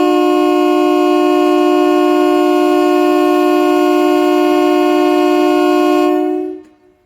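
A train horn blares loud and close at Patna station, holding one steady, unbroken tone for about six seconds before cutting off abruptly into silence.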